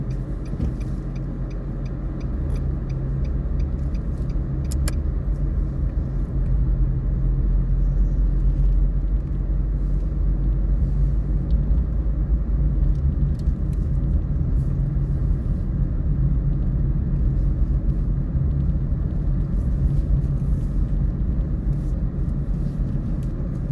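A car pulls forward after being shifted into drive during a driving lesson, a steady close engine and road rumble that swells slightly as it gets moving and then holds constant.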